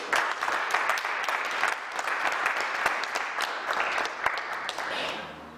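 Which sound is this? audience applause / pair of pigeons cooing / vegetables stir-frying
audience applause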